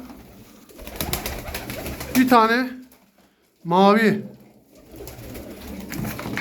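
A pigeon coos twice nearby, each a low throaty call, amid rustling and handling noise as a box of tumbler pigeons is opened, with a person speaking briefly.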